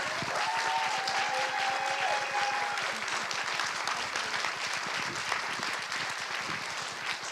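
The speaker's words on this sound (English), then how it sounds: "can we please give Asher one last round of applause?" An audience at an MLK celebration event gives Asher a final round of applause, sustained even clapping throughout, with a short faint whistle-like tone early on.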